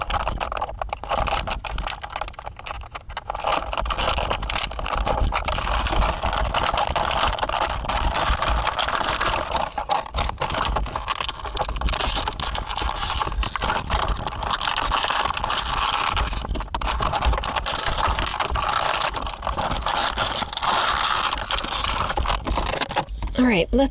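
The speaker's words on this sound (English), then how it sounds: "let's get her out of this plastic" A heavy Cosmic Legions action figure is worked out of its plastic packaging, with continuous close crinkling, crackling and scraping of plastic throughout.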